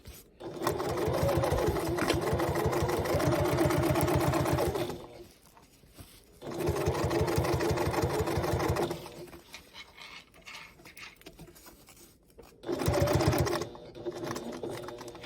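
A serger-style sewing machine stitches a boxy bag in fast, loud runs of rapid rhythmic needle strokes, stopping and restarting three times with brief quiet pauses between bursts.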